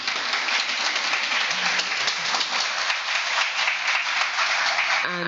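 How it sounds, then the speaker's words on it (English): Audience applause rings out for a lecture's event sponsors, steady dense clapping held at an even level for several seconds with no one speaking over it. "Please a round of applause for all of them."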